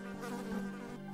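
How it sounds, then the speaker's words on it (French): A cartoon bee buzzes steadily around close by, a continuous droning hum that swells slightly in the middle, with no talking. "Concentre-toi et pas sur l'abeille qui vole autour de toi."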